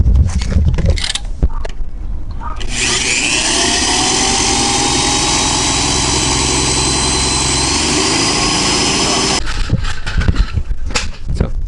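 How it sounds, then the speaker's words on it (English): A power drill bores out stuck brake rotor screws on a 2007 Honda Accord's rear brakes, a loud sustained whine lasting several seconds, with brief clanks and shorter drill bursts before and after. "So I'm gonna drill these out"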